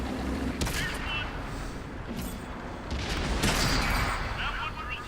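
Tank cannon fire in the World of Tanks video game, a couple of sharp booming shots followed by rumbling noise, heard over a steady background drone of engine and battle ambience.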